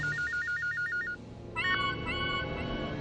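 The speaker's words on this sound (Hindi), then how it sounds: "क्या विलायत से तेरी बुआ का फोन आया है जो तू फोन उठा रहा है?" Electronic telephone ringtone in a Hindi TV serial home scene, a rapid warbling ring pattern repeating for about a second, then a brighter chiming tone over background music.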